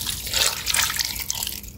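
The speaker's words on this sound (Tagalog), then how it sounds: "lagyan pala natin ng tubig mga kabayan" Water is poured into a cooking pot of fish paksiw, a steady splashing, trickling stream running close and alone for under two seconds.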